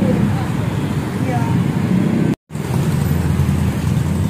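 Yamaha WR motorcycle fitted with an SKR Racing exhaust riding on a road, a steady loud engine and road roar with a brief dropout midway, close up.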